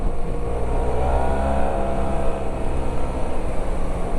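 Yamaha T MAX 560 scooter riding on the road, its engine drone steady and fairly loud throughout, mixed with rushing wind noise and no talk.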